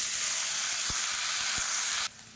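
Three medium chopped tomatoes sautéing in a teaspoon of oil in a pan for tomato chutney, giving a steady soft sizzle and hiss that cuts off sharply near the end.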